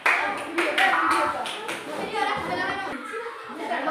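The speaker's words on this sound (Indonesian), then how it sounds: "Tepuk tangan untuk kelompok 2." Classroom applause for a student group after their presentation, uneven bursts of children's clapping mixed with kids chattering and talking, fairly close and lively.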